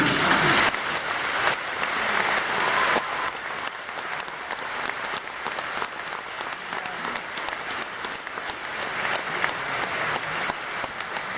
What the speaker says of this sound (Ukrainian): Ще люди аплодують.